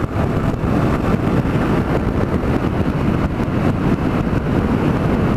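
Steady, loud roar of wind buffeting the microphone while riding a 700cc vehicle, a dense, unbroken rushing noise that continues without pause.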